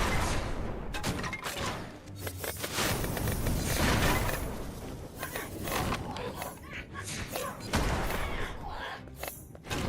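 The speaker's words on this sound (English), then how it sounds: "Fuck those explosions, man." Chaotic explosions and combat in the video game Hordes of Fate: dense, repeated booms, thuds and crackling blasts fill the clip with dense battle noise.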